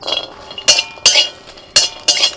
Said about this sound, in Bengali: শুকনো কড়াইয়ের মধ্যে দিয়ে দিচ্ছি শুকনো লঙ্কা কাঁচা লঙ্কা আর কয়েক কয়েক গোটা রসুন